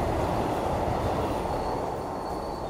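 At Balasore railway station a train rumbles loud and close with a broad steady roar, wheels grinding along the rails and a faint thin squeal rising toward the end; no one speaks.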